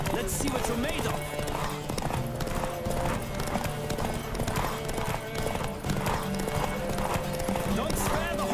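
Rapid clip-clop of a horse galloping flat out in a race in The Witcher 3, steady hoofbeats running the whole stretch with character voices and game sounds layered over them.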